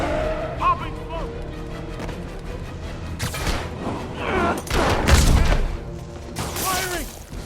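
Bursts of gunfire ring out in Marvel's Spider-Man amid a busy combat mix of impacts and crashes, with voices shouting in game over the action.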